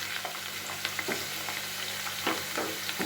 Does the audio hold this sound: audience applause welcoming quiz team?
no